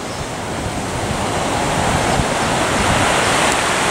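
Ocean waves wash steadily onto a powdery white sand beach in Cabo, a loud continuous roar of surf with no voices.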